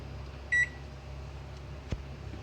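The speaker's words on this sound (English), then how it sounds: "we have to heat that in oven for 1 or 2 minutes" A microwave oven heating wet coconut halves, a single short electronic beep followed by a low hum and a faint click.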